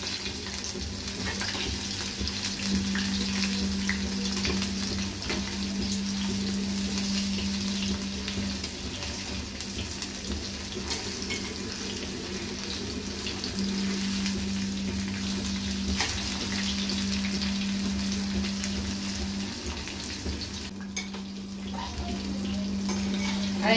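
Chicken wings fry in a pan with a continuous, even sizzle heard up close, a low hum running under it and occasional small clatters. There is no speech.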